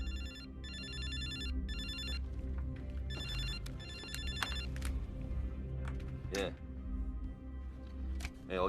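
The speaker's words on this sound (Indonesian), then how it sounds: "tiba-tiba telepon berdering." A telephone rings in a scene from a Korean serial-killer film, bright electronic trills in bursts over a low background score, with short clicks and rustles around them.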